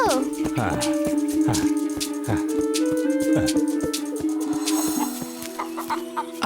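Chickens cluck and squawk busily nearby, overlapping calls in a steady stream, with some tonal sounds underneath.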